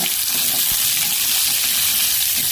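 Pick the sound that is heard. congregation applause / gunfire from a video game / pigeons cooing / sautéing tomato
sautéing tomato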